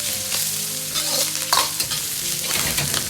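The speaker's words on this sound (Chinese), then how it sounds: "然后倒入控干水分的猪皮，保持中火，多翻炒几下，炒出猪皮里边多余的水分" Pork skin stir-fried in a wok with sauce over medium heat, giving a steady close sizzle broken by scraping, clattering stirs of the spatula throughout.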